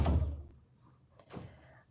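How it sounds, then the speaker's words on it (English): A door shuts with a dull, low thunk, followed about a second later by a fainter knock or tap, both quiet and somewhat distant. "Close the door."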